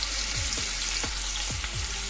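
Chicken sticks fry in hot oil over medium heat, giving a soft, continuous hiss with a few scattered crackles and pops.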